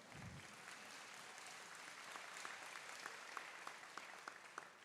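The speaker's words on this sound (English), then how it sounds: "You can applaud, that's great." Applause from the audience at a college commencement ceremony, a steady wash of many hands clapping at moderate distance, with a few sharper claps standing out near the end.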